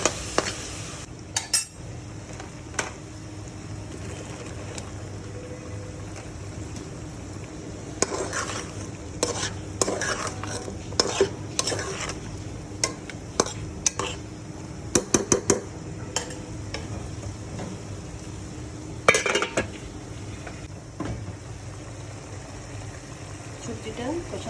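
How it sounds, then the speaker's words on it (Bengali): Vegetables with turmeric and chili powder stir-fried in a pan for an ilish curry with potol and potato: a steady low sizzle under repeated scraping and clinking of a spatula against the metal pan, with occasional louder knocks. "এখন এটা কষাবো ভালো করে"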